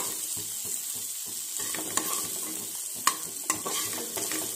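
Pasta ingredients sauté in a pan for white sauce pasta, a close, steady sizzle broken by the clinks and scrapes of a spoon stirring.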